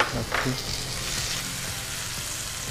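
Tomato sizzles and fries in masala in a pan, a steady hiss with a few stirring clatters near the start, close and moderately loud.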